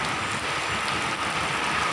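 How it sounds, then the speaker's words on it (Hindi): Steady, dense hiss of heavy rain falling on a surface during flooding, continuous and fairly loud with no talking. "तो बहुत बारिश हो रही है"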